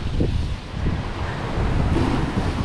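Huge ocean waves surging onto a beach at a dive site near Dumaguete, with steady rumbling surf and strong wind buffeting the microphone throughout.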